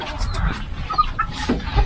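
A chicken clucks in short bursts close by, amid rustling and some faint background murmuring.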